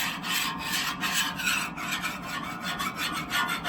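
A metal scraper rasps across a Blackstone griddle that was heated fully and then allowed to cool slightly, clearing loose cooked-on residue in steady, continuous, close-up scraping strokes.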